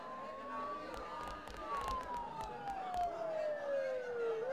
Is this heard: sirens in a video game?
yes